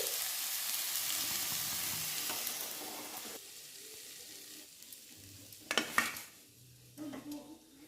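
Bathua greens fried with eggplant sizzle in a pan, a loud frying hiss that fades, followed by a few clinks of a utensil against the pan.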